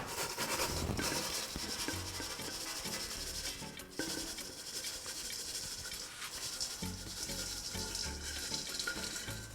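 Potting soil being mixed for a Congo Rojo philodendron makes a continuous close gritty rustling and scraping, steady and moderately loud throughout with no talk.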